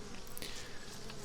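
Honeybees buzz in a steady, close drone around a hive as a swarm is being caught, the hum continuous and fairly even throughout, with no talk over it.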